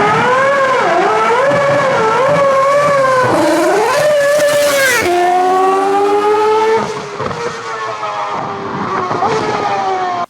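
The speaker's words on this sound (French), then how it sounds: "qui a quand même violé les Ardennes au volant d'une Ferrari F60 de 2009" A 2009 Ferrari F60 Formula 1 car screams around Spa at close range, its high-revving engine climbing through rapid upshifts and dropping under braking, loud throughout.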